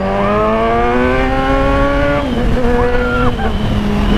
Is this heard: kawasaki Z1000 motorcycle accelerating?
yes